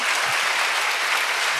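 Brief burst of church congregation applause at a Friday prayer meeting, a dense, even wash of clapping with no individual claps standing out and no speech.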